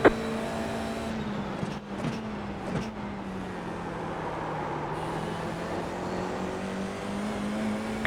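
Race car engines in a racing video game drone steadily at close range, one sustained engine tone rising and falling slightly with a few brief bursts of another car passing near the start.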